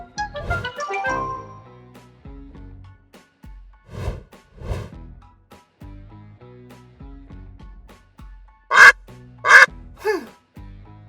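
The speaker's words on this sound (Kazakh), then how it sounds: "Бұл үйрек." A cartoon duck quacks several times in a loose rhythm, close and clear, ending with two loud, sharp quacks near the finish.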